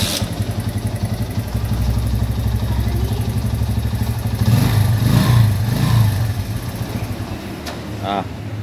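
A Honda Megapro motorcycle engine idles steadily up close, swells briefly in the middle, then cuts out near the end as it stalls, with a voice speaking over it.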